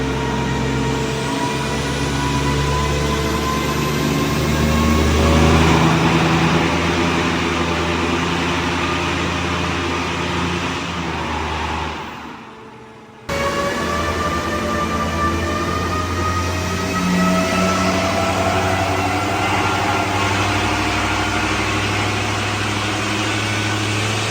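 A Scania R730 truck's powerful engine runs steadily on dyno rollers, a loud continuous low roar with rising harmonic tones, briefly dropping out midway before resuming at full strength.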